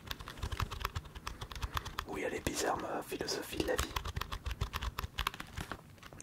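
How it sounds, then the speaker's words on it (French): Soft patter of typing on a small keyboard, a steady run of close, quick key clicks with a soft whispered voice over the middle of it. "Petit clavier."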